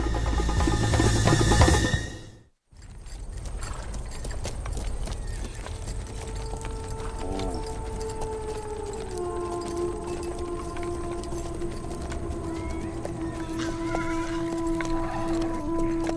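Horses run off across open ground, their hooves clopping steadily over a loud, continuous rumble of film soundtrack that fills the scene after a brief drop to near silence.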